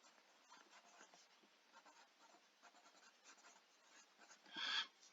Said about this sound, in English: I'm going to write mixed number.